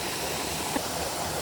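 River water flows in a constant, dense rush close by, a smooth unbroken wash with one faint knock partway through and no voices.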